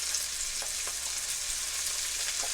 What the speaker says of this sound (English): I'm going to add my onions because the onions will take a little longer to cook